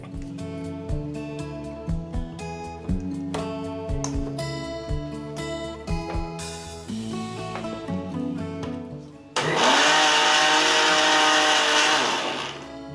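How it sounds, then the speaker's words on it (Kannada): A kitchen mixer grinder powders dates, chickpeas and sugar, first with a whining motor in short pulses, then with a sudden loud, sustained roar of grinding. "ಒಂದು ಕಪ್ ಕಡಲೆ ಒಂದು ಕಪ್ ಸಕ್ಕರೆ ಹಾಕ್ಕೊಂಡು ಪುಡಿ ಮಾಡ್ಕೋಬೇಕು ಇದನ್ನು ಮಿಕ್ಸಿಯಲ್ಲಿ"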